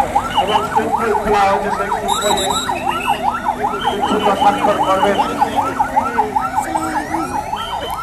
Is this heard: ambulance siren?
yes